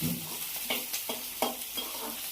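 Sliced onions fry in oil in a pan as the base for a prawn curry, making a steady, close sizzle broken by regular stirring scrapes, with no voices.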